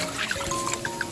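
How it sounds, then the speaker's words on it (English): Water trickles and pours into a cooking pot for curry chicken, a steady faint liquid stream with small bubbling plops, heard alone at low level. "I'm just gonna add enough water"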